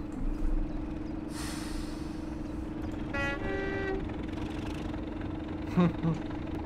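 Class 37 diesel locomotive compressor running in a train simulator game: a steady mechanical drone with a short burst of whining harmonics midway, all under a constant hum.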